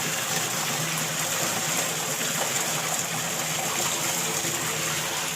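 Water from a BLDC solar pump gushes out at an installation with 500 feet of wire, a steady, loud, broadband rush that continues without a break, with no talking.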